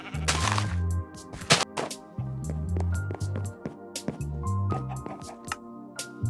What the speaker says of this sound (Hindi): मैंने लीड से एक बकरी को बांध के एक फेंस के ऊपर लगा दिया हूँ